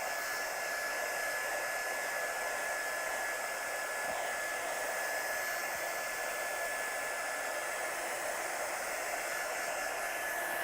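Hair dryer blowing steadily at close range to dry black ink on a handmade card, a continuous even whoosh of air lasting throughout with no talk.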